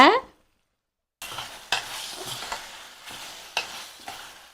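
Mutton chukka with onions, Madurai Muniyandi Vilas style, frying in a pan: after a short silence comes a steady close sizzle, with scraping stirs at intervals and a few sharper spoon knocks on the pan.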